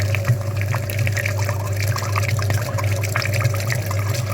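Water is flushed through the heater radiator of a Skoda Octavia Tour 1.6 BFQ, a steady rushing, gurgling flow with a constant low hum underneath, close and unbroken throughout.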